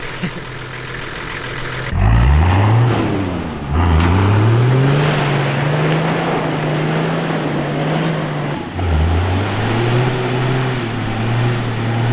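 A Nissan Safari 4WD's TD42 engine revs and strains loudly while driving through mud, rising and falling in pitch through several surges as it pushes forward, with no voices present.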